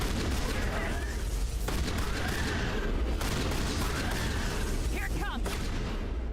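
Rapid gunfire from the Carnage ability in Mass Effect, a dense continuous barrage of shots under faint game noise and voices.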